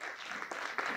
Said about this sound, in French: Des applaudissements dans la salle